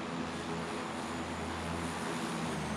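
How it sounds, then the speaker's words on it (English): An aircraft engine drones steadily overhead in PlayerUnknown's Battlegrounds, a continuous low hum with broad noise that stays even and fairly loud throughout. "I can hear a plane."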